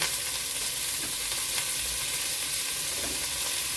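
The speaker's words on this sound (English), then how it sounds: "I just want you to brown this on all sides." Red beans and other stew ingredients brown in a pan on lowered heat, sending up a dense, steady sizzle and crackle close by. There is no talking and only small pops within the constant frying.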